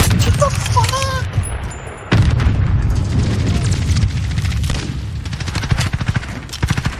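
Sniper rifle shots and other gunfire in a video game crack out in a busy firefight, with a sharp blast near two seconds and rapid repeated shots toward the end over constant game noise.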